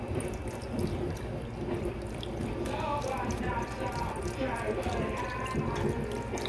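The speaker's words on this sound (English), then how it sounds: "And then I'm gonna go ahead and add my beef broth." Beef broth is poured from a carton into a slow cooker pot with a pot roast, giving a steady liquid splashing and trickling for several seconds, close and moderately loud.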